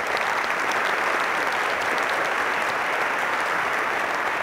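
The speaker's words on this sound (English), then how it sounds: "Please give Rory another big round of applause." Steady, dense applause from a large audience, hands clapping continuously at an even loudness throughout.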